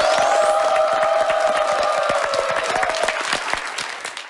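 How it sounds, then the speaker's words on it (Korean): Loud, dense audience applause rolls through the hall with scattered cheering, a continuous crowd of clapping hands that stays strong before tapering slightly near the end. "여러분 박수 주십시오."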